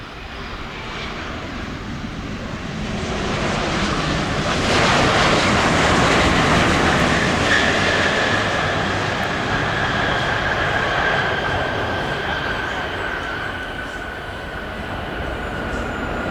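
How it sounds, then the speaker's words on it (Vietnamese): A Vietnam Airlines airliner lands on runway 07, its engines giving a broad, loud roar that swells and slowly eases, with tyre and runway rumble underneath and a thin whine riding on top, heard alone without talk. "những cái âm thanh rất là rộn rã của sân bay, cũng như là tiếng động cơ, tiếng mà lốp va chạm đường băng nghe rất là thích thú"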